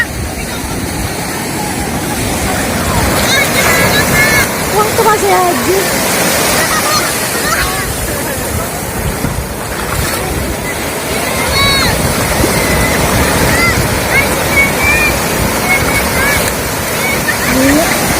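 Big ocean waves crash on a Zambales beach in the Philippines as a loud, continuous roar of surf and wind, with people talking and a voice over the churning water.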